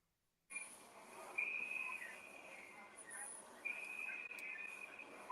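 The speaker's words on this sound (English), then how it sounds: "I hear whistles." Thin, high whistle tones from a film soundtrack sound in a few sustained blasts over a quiet, hissy background, fairly faint and distant.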